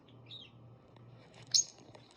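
Three new pet birds indoors give a few faint, brief chirps, one sharper tweet standing out over a quiet low hum in the room.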